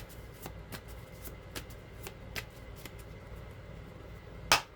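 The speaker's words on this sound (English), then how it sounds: "Get a good shuffle here." Tarot cards are shuffled in quick riffling bursts, a series of soft flicks and snaps close up, ending with a sharper louder riffle.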